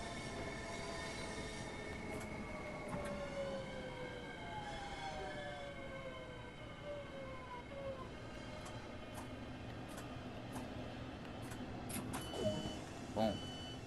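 A train in Train Sim World 2 rolls along with a steady low rumble, drawn-out wheel squeals and tonal whines gliding up and down, while someone talks over it throughout.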